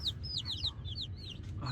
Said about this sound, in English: Today, I'm going to be showing you my chickens.